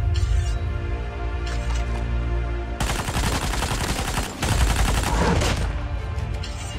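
Machine gun fire in the mobile shooter Call of Duty Mobile: a loud, sustained stream of rapid shots bursts in after a quieter stretch of game ambience and keeps hammering almost without pause to the end.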